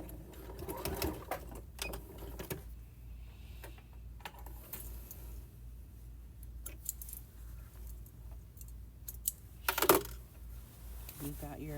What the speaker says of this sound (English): So just sew down as far as you can go, right there.